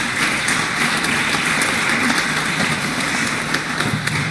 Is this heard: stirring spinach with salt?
no